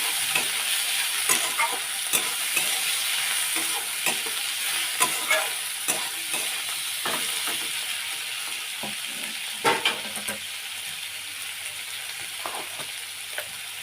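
Drumstick stalks frying in a pan for a Bengali vorta, a steady close sizzle broken by repeated spatula scrapes and taps, moderately loud with no one speaking.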